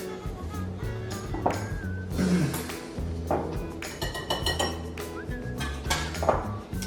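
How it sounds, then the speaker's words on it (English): Dry ingredients are stirred into pumpkin bread batter in a bowl, bringing irregular clinks and knocks of a utensil against the bowl amid soft scraping, with faint voices in the background. "we are going to start adding that in there and mixing that up until it is all combined"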